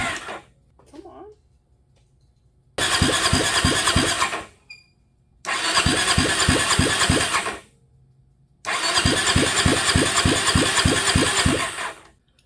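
A $400 marketplace dirtbike engine cranks and catches three times, each burst a loud, close, rapid popping run of a few seconds followed by silence as it dies.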